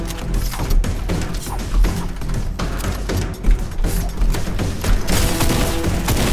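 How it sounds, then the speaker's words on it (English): Heavy, rapid hand cannon fire in Fortnite cracks and booms in dense bursts with mechanical clanks, loud and continuous throughout, no voices. "Listening to the noise of the hand cannon"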